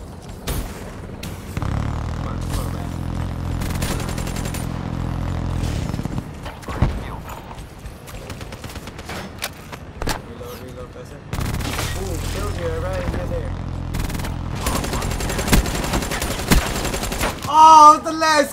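Automatic gunfire in Black Ops 3, rapid bursts of shots stacked over loud game music and effects, broken by short gaps and dropouts, with a player's voice talking at points.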